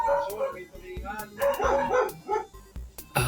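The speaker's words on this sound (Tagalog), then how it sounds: "Aso namin sa probinsya." A dog in a rural province barks in several short, sharp bursts mixed with yips and a brief whimper, close and fairly clear against a quiet background, with a little faint talk.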